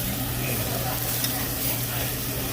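Meat, including rib, sizzles on a Korean BBQ grill over a low fire at Brother's Kbbq in Lakewood, California: a steady, close crackling hiss over a low hum, with no pauses.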